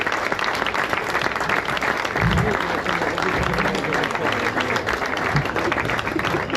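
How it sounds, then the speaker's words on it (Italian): An audience at a Sardinian sports awards ceremony applauds a coach being called to the stage, a loud, steady wash of clapping from a large crowd that continues without a break. "Un grande applauso a coach Meo Sacchetti"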